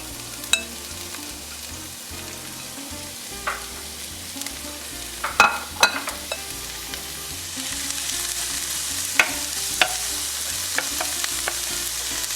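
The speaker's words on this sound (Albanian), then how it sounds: "vajin e kemi gati dhe po hedhim qepën me hudrën të skuqen" Onion and garlic frying in a little oil in a pan, a steady close sizzle throughout with occasional stirring clinks and scrapes, the hiss swelling brighter toward the end.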